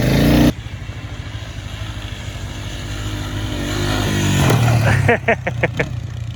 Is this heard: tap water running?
no